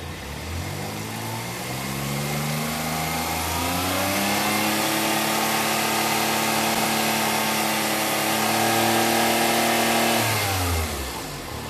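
A car engine revs up under acceleration during an AC gas check, its pitch rising smoothly and holding a loud, steady drone for several seconds before easing off at the end.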